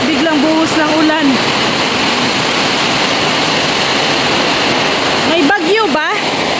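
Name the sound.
sudden heavy downpour of rain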